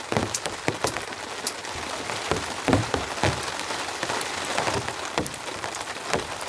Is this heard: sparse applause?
no